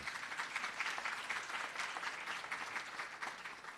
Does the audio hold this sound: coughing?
no